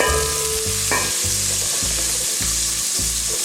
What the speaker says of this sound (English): I'm gonna start sauteing.